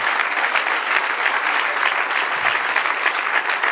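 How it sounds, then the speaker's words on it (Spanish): A church congregation applauds during a Spanish-language worship service, a dense, steady wash of clapping that fills the whole stretch without pause, with no voices standing out. "Dar un aplauso al Señor."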